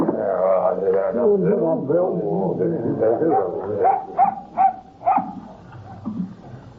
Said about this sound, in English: Whose dog is this?